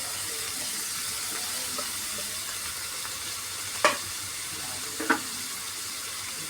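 Tomatoes and onions fry in a pan for a fish curry, giving a steady, even sizzle throughout, with two brief knocks of a stirring utensil near the end.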